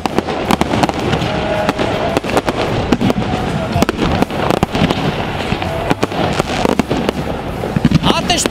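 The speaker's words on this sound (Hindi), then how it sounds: "आतिशबाजी का खूबसूरत मुजाहरा, ऐसा मुजाहरा जो पूरे कराची को जगमगा रहा है।" Fireworks crackle and pop continuously over Karachi during a celebration of a tape ball cricket premier league, dense sharp bursts layered over a constant roaring rumble, loud and close, with someone speaking faintly beneath.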